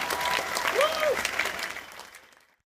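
A large concert crowd in Manchester roars and claps loudly, a broad wash of cheering with a rising whistle-like cry in the middle, fading out to silence.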